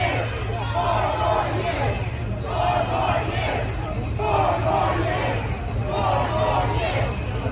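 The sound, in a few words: crowd outside the presidential debate in Atlanta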